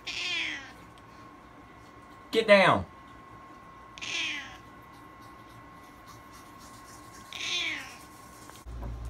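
A domestic cat meows four separate times at a house on a hot day, each call fairly close with long pauses between, one louder and more drawn out; a person speaks briefly and a steady electrical hum runs throughout.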